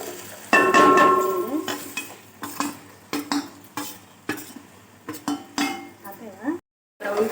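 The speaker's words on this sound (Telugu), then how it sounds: "ఇప్పుడైతే బంగాళదుంప ముక్కలు వేసుకుంటున్నాను." Potato pieces tossed into a pan of hot oil with caraway, cinnamon, cloves, ginger and onion, giving a close sizzle broken by repeated scraping and clinking stirs, with one brief cut to silence near the end.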